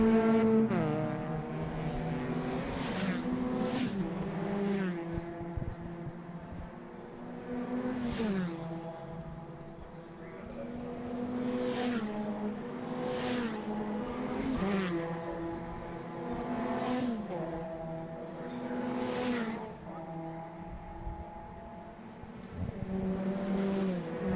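Race cars circle a track during an ICCR race, and engines scream up and down through gear changes. Cars rush past in repeated waves, some close and loud, others fading into the distance.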